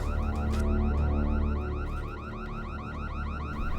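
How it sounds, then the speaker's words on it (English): A shop's door alarm, set off when the front glass door is opened, blares a loud, steady, rapidly warbling electronic tone that repeats continuously with no talk over it. "She opens the front glass door to the shop, which sets off an alarm."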